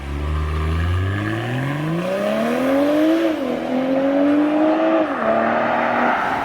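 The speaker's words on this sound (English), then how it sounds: "let's get into the drive of this thing." A 2022 BMW M240i xDrive with a 3.0-litre turbocharged inline six accelerates hard, its engine note climbing steadily through the gears with brief dips at each upshift, loud and continuous with no talking.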